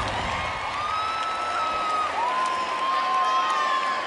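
Concert crowd in Madrid cheering and applauding at La Noche de Cadena 100 2012: a steady, distant roar of voices and clapping, with a long piercing whistle cutting through on top.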